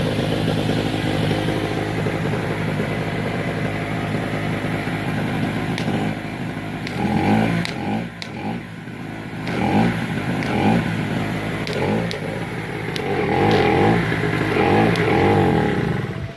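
A generator engine runs under load from arc welding at about 120 amps with a 3.2 mm electrode, a loud, constant rumbling drone with uneven crackly pulses that swell and fade through the stretch.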